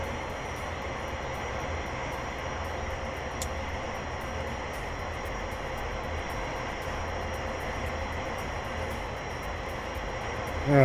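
An aircraft's second engine spools up in a flight simulator video game, a steady, dense roar of engine and air noise that holds at an even level throughout, with no talk over it.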